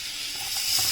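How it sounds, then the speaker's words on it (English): Butter, two big tablespoons, sizzling and hissing softly as it melts in a hot pan, a brief steady crackle. "We've just added butter, 2 big tablespoons of butter"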